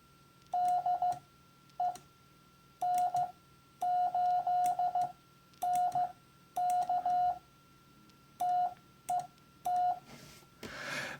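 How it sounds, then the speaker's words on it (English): A single tone keyed in Morse code on an amateur radio, sending DE, a call sign and a spaced prosign at about 18 words per minute, in clean rhythmic dits and dahs over faint steady hum. "I'll send DE, then my call sign, then the spaced out da dit da."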